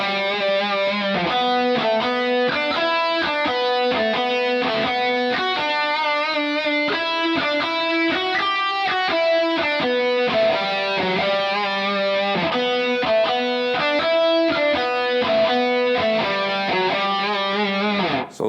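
Distorted electric guitars play a melody as a three-part harmony, with the lines moving together in a fast, steady run of notes, loud and close with no talking.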